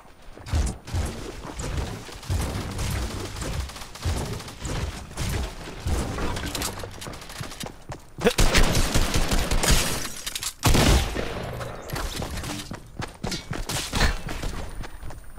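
Video game gunfire rattles in dense, rapid volleys, loud and close, with mechanical clacks and short gaps between bursts.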